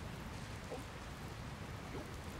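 Steady rain falls in the video game Dragon Quest Builders 2, a constant soft hiss of drops that fills the scene at low level with no voices.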